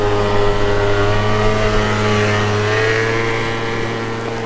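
Yamaha Zuma scooter fitted with a nitrous kit, its small engine droning steadily with a buzzing whine that rises slightly in pitch, loud and close with no talk.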